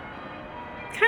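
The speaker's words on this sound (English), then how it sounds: "but the bells are going crazy, and they have for probably the last like" Bells ring continuously from a church tower in Edinburgh, Scotland, a faint, steady peal heard at a distance beneath street noise, with a brighter, louder stroke near the end.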